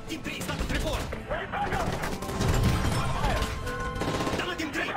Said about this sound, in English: That's gunfire! Russia is attacking the plane!